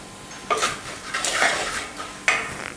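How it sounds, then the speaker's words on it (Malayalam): A spoon stirs turmeric, asafoetida and Kashmiri chilli powder in a hot clay pot, producing a few loud scraping, clattering bursts with a light sizzle between strokes; no one speaks. "കൈയെടുക്കാതെ ഇളക്കിക്കൊണ്ടിരിക്കണം കേട്ടോ, കാരണം നമ്മൾ ഈ മൺചട്ടിയാണ് നല്ല ചൂടുണ്ട്"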